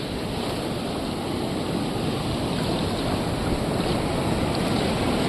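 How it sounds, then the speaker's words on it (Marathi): Big sea waves crashing on the shore during mangan fishing, as a loud, continuous roar of surf and wind noise that fills the whole stretch with no voices. "लाटा बघ असल्या मोठमोठ्या लाटा येत आहेत."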